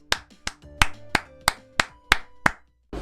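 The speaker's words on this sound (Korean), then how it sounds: "마지막으로 박수 치면서 리뷰를 마치도록 하겠습니다" Nine sharp, evenly spaced hand claps close up, one person applauding steadily to close a football match review, with no talk over them.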